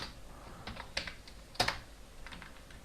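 Quick, light taps on a computer keyboard while code is typed, a few sharper keystrokes standing out over a quiet background.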